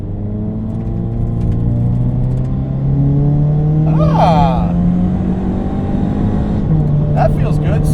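A supercharged Scion FR-S with an automatic transmission drives in sport mode, its engine droning loud and close from inside the cabin as the revs climb steadily, dip, and climb again, with brief voices over it.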